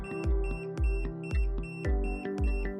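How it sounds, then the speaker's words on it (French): A keypad reader's repeating electronic alarm buzzer, triggered by a forced door, with a harsh, sharp pulse about twice per second, loud and steady with no voices. "toute tentative de porte forcée activerait le buzzer et la sortie alarme du clavier lecteur"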